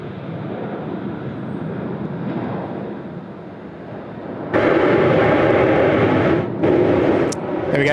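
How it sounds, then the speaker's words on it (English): Air New Zealand 105, a heavy jet arriving from Auckland at Sydney Airport: a steady broad engine roar that swells abruptly louder and stays strong and close, with brief dips and a sharp transient near the end. "There we go, second heavy inbound from Auckland today, the New Zealand 105 service"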